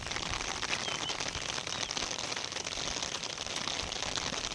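Rain falls steadily over open farmland in Bukidnon, Philippines, a constant dense hiss of drops with no breaks, fairly close and even throughout, with no talk.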